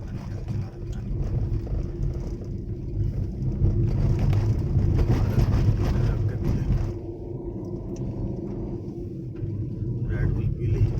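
A car rumbles along a mountain road in Uttarakhand, a low steady engine and road drone heard from inside the cabin, with people talking over it for much of the time.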